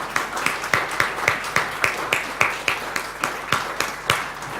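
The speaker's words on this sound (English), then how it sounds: "give yourselves a huge round of applause" Audience at a book launch claps in a regular rhythm, each sharp clap standing out clearly, a steady and fairly loud series that continues for several seconds without talk.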